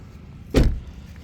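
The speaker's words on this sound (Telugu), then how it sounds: "ఈ బటన్ వస్తే సైడ్ మిర్రర్ క్లోజ్ అవుతాయి" Electric side mirrors folding on a 2019 Maruti S-Cross Zeta diesel: a single short motor whir near the middle of the moment, close and moderately loud, with quiet cabin ambience before and after and no talking.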